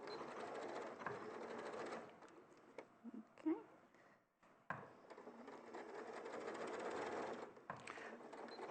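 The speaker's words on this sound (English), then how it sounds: "So I'm just literally going to go through and just stitch all the division lines into place" A domestic sewing machine runs in steady bursts, stitching division lines into a pocket with short reverse stitches at top and bottom; the whirring motor pauses briefly in the middle before resuming.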